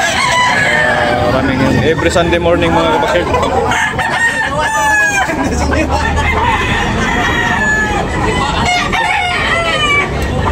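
Several roosters crow repeatedly, overlapping, at a chicken sale, loud and close amid a chatter of people talking throughout.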